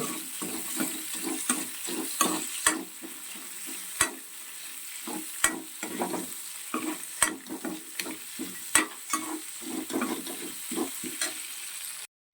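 Capsicum cubes sizzle in oil in a pan for paneer tikka masala, with a continuous close frying hiss broken by regular scraping, clattering stirs of a spoon against the pan.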